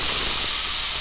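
Green peas hit hot oil in a pan for a mashed pea dish, a loud steady steamy hiss filling the brief moment with no voices.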